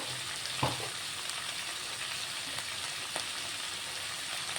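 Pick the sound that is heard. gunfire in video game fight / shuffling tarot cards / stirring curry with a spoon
stirring curry with a spoon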